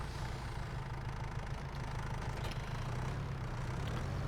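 A tractor engine idling in the farming simulator game Farming Simulator 22, a steady low rumble with slight knocking, close and even throughout, no speech.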